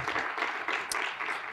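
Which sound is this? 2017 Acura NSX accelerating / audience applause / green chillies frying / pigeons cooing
audience applause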